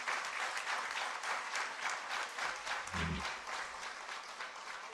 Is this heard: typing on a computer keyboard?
no